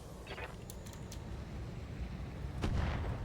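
A cannon shot in a video game booms once near the end, a loud burst standing out over steady rumbling background noise, with fainter crackles earlier.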